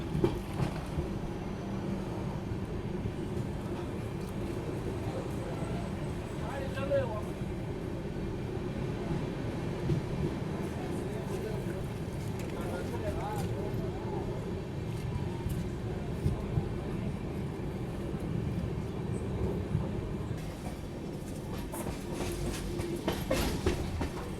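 The Bangalore Rajdhani express runs along, heard from inside a first AC coach: a steady low rumble with rhythmic clickety-clack of wheels over rail joints and faint rattles throughout.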